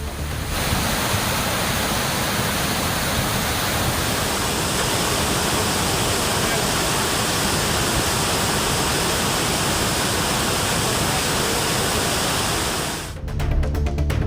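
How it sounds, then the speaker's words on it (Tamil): Water discharged from a reservoir during heavy rain in Tamil Nadu, a steady, loud broadband roar of rushing water that continues unbroken before cutting off near the end. "நீர்த்தேக்கத்தில் இருந்து நீர் வெளியேற்றம் வினாடிக்கு 750 கன அடியாக உயர்த்தப்பட்டது."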